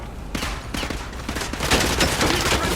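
Battle gunfire from the video game Call of Duty Modern Warfare 2 Remastered: continuous, dense bursts of rapid shots that grow louder and heavier throughout, with no talk.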